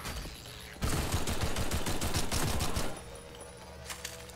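Gunfire from Half-Life 2 erupts in a dense burst of rapid shots lasting about two seconds, loud and close, then drops back to quieter game ambience.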